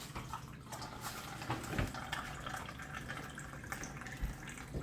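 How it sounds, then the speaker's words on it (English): Tap water runs steadily into a cup at a kitchen sink while warm water is drawn for crockpot bread dough, a soft continuous splashing stream with low water pressure, fairly quiet and unaccompanied by talk. "I had my water running for a few minutes, so I'm going to grab a cup of that"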